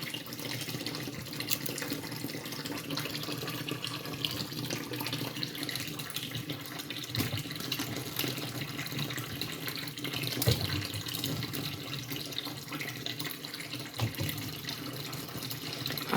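A kitchen tap runs steadily into a sink during pear preparation, a continuous soft rushing and splashing at moderate volume with no pauses or talking.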